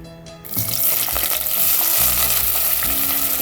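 About a cup of onions drop into half a cup of hot oil in a pan, setting off a sudden loud sizzle that swells and holds as a steady, close crackling hiss, alone with no voices.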